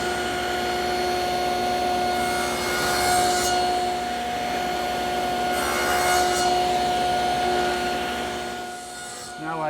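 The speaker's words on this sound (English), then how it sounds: "raise the blade to 5/16 of an inch and make the shoulder cuts on the front rails" Table saw blade cutting shoulder cuts into wooden front rails for a nightstand, a steady sustained whine with two swelling bursts as the wood is fed through, then the motor winding down at the end.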